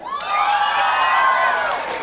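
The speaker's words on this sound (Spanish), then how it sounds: "Un aplauso para todo México." A crowd at a live concert erupts in loud, sustained cheering, whoops and shouts blended with applause, a dense, continuous roar that swells and then begins to ease.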